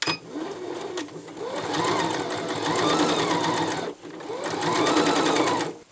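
A Necchi HP04 sewing machine stitches a scarf in bursts: a soft start, then a steady, close mechanical whir with a brief pause between two longer runs, and no speech.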